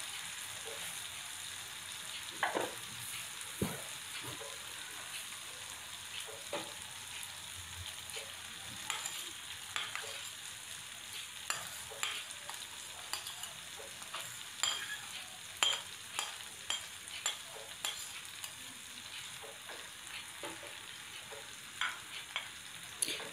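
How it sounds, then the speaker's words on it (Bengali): Tomato masala with pre-fried fish sizzles steadily in a pan while a spoon stirs it, scraping and clinking in irregular taps throughout, close up with no talking. "এখন আমি টমেটোটাকে একটু ভালো করে নাড়াচাড়া করে নেব।"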